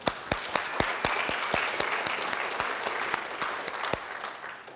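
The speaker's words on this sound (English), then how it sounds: "You can clap for that." An audience at a motivational talk claps, a few sharp, distinct hand claps ringing out over a dense, steady wash of applause that fades slightly toward the end.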